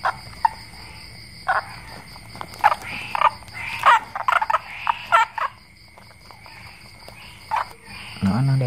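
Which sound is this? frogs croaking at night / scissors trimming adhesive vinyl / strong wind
frogs croaking at night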